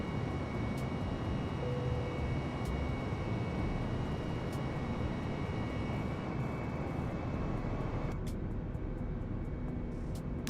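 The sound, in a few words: A320 airliner engines in Microsoft Flight Simulator video game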